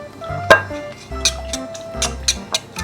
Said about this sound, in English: Whisk it nicely.